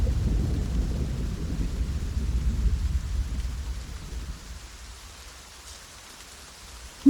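Steady rain in a video game hisses and patters with a low rumbling undertone, gradually easing and growing quieter, ending with a sudden short knock.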